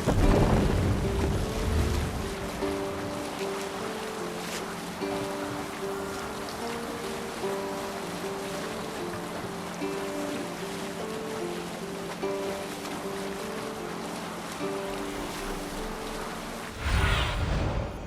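A sailing ship under full sail in the video game Assassin's Creed Valhalla, with a continuous rush of waves and wind around the hull and a low hum beneath, steady and fairly loud throughout and swelling again near the end.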